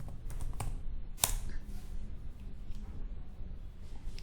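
Computer keyboard typing a command, a quick cluster of close key clicks early followed by a sharper single tap and a few scattered soft presses over faint background noise.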